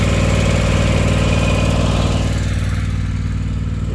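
A John Deere lawn mower engine idles steadily and close by, a continuous low rumbling drone that holds at an even level throughout with no voices.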